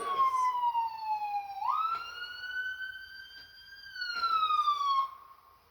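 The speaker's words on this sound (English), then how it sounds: "There's an ambulance over there, and there's another one coming at us." Toronto ambulance and paramedic vehicle sirens wail past on a city street, a loud close tone sliding down, jumping up, holding, then falling again as the vehicles approach and move away.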